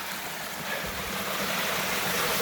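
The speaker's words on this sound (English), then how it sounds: "I would just like to emphasize again how rare this is that we get to see natural spring water coming off the Bernasconi Hills." Natural spring water flows off the Bernasconi Hills near Lake Perris, a steady broadband rush of running water that holds even and continuous throughout, with no voices.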